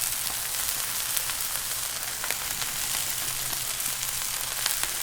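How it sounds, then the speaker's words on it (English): Steady, loud sizzling of bacon rashers frying on a hot Q griddle, a constant crackling hiss with small pops and no voices. "Just listen to that sizzle."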